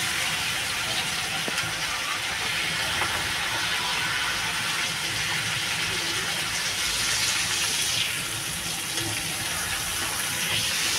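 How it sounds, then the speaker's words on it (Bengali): Water poured into a pan of pabda fish frying in spiced oil, producing a continuous rushing, bubbling hiss that holds at a steady level throughout. "আমি এবার জল দিয়ে দেবো।"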